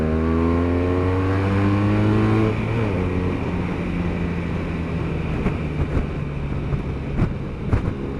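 A BMW R1200RS motorcycle overtakes on a Cornwall road, its engine holding a steady, strong tone and then revving higher through a gear change, with wind rush and a few bumps afterward.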